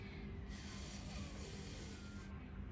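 A voice imitates a lawn sprinkler with a steady, soft hissing whisper held for a couple of seconds, faint and even.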